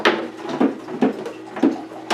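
A plastic part slides into a Garden Tower 2 planter with several scraping, knocking strokes at an irregular rhythm, close and moderately loud, with no one speaking.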